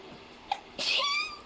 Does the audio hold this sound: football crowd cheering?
no